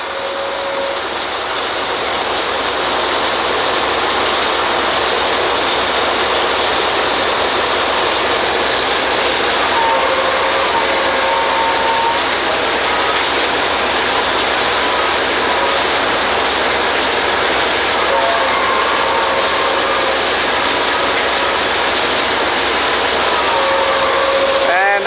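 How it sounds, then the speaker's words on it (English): Machinery on a historical kelly drilling rig winches up the next length of drill pipe, a steady loud mechanical rumble and clank running throughout with occasional higher squeals, no talk. "There, they're pulling up the next piece of pipe, winching it up."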